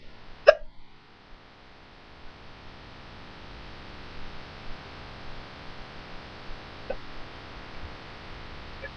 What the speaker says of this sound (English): Who got hiccups now?